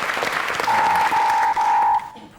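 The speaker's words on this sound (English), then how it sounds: "I think a round of applause for Jade, the most popular Big Brother contestant ever." Studio audience at a comedy panel show breaks into steady applause, and a loud electronic buzzer tone sounds over the clapping in three long bursts before the noise drops away.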